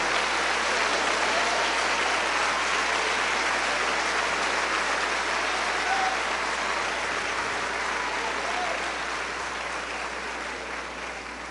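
Church congregation applauding during a sermon, a steady, dense wash of clapping that holds evenly throughout and tapers slightly near the end, with no talk over it.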